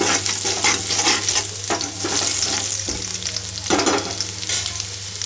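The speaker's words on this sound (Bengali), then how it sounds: "আদাটা একটু লাল করে ভাজা হয়ে যাবে" Ginger browning in hot oil in a home kitchen pan: close, continuous sizzling and crackling, with a few stirring scrapes and light knocks against the pan.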